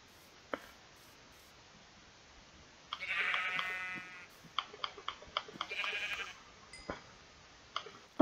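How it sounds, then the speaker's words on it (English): Sheep in the Minecraft video game bleat in two clear, drawn-out calls a few seconds apart, set against a quiet background with scattered light clicks and ticks from gameplay. "Sheep, come back here! Come back here!"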